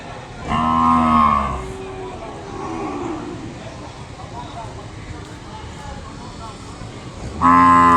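Cattle at a weekly livestock market in Kodada give loud, close moos: one long call near the start and another at the very end, with quieter lowing and market noise in between.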